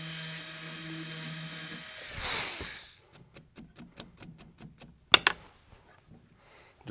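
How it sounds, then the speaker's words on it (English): A high-pitched small drill whines for a couple of seconds drilling jewelry metal for stone setting, then spins down into a series of short, sharp ticking and tapping sounds. "Just a little bit more and I'll be ready to finish drilling."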